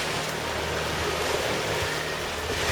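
Big surf crashes and washes over the rocks at Ravens Point, Trearddur Bay, Anglesey, on the Welsh coast during rock fishing, making a steady, loud, roaring hiss of churning water throughout with no talking.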